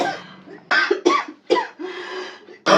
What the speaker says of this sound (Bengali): আমার খুব কষ্ট হচ্ছে বাবা, কাশতে কষ্ট হচ্ছে